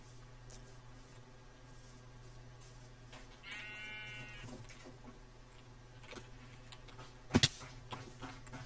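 A single sheep bleats midway in the Minecraft video game, a short wavering call over quiet game ambience, followed by a sharp click near the end.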